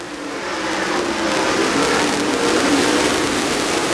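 Dirt track race cars roar together around the oval at Farmer City Raceway, a broad, distant engine drone that swells and holds steady, with no voices.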